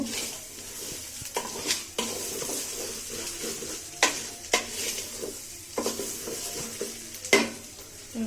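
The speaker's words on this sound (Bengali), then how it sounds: "চালটা একটু ভালো করে তেলে ভাজা পরে পানি দিয়ে দিব" Rice is fried in oil in a pot for mutton biryani, with steady sizzling and repeated scraping stirs and metal clinks from a spoon against the pan, close by and moderately loud.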